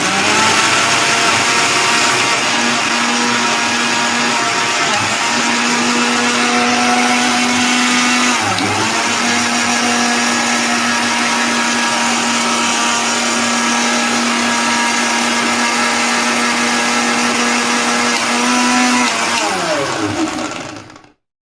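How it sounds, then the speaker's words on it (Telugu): A mixer grinder whirs loud and continuous, blending muskmelon pieces with sugar, its pitch dipping briefly midway before settling into a steady drone that cuts off at the end. "ఇప్పుడు ఈ రెండింటిని మెత్తగా మిక్సీ పట్టుకోవాలి"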